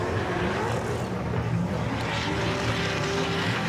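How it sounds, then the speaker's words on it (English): A drift car launching off the line at a drift championship round on a Formula 1 circuit, its engine roaring loud and steady with tyres spinning and smoking, a dense continuous mechanical drone with no talk. "off the line, Haytham Al Hadidi smokes the tyres"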